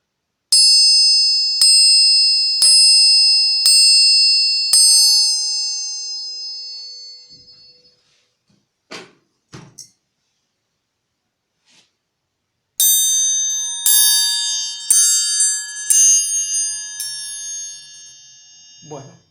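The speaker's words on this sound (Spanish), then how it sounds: "Vamos a ver si estos dos triángulos tienen timbres distintos." Two metal triangles struck in turn, first a series of about five bright ringing hits that decay, then a pause with a few soft taps, then another run of shimmering strikes with a different tone.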